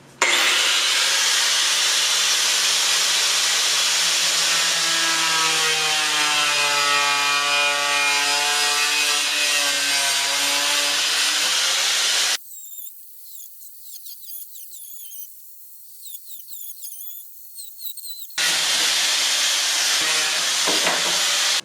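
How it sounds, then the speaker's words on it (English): Power saw slicing through a fiberglass rear bumper diffuser on a boosted Infiniti G35, a steady loud whining grind with pitch sweeps, then a quieter scraping pause before the harsh cutting resumes. "It's super easy to glide the power saw through the fiberglass."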